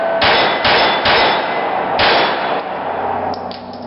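A .22 pistol, a Colt 1911 conversion unit on a Rock Island Tactical frame, fires CCI Mini Mag rounds: four loud, sharp cracks with ringing tails in an uneven sequence, then two fainter distant reports near the end.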